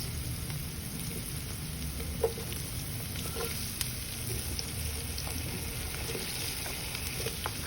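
Onions fry in a pan for potato hash with bacon, giving a steady, quiet sizzle with occasional small pops, close and continuous.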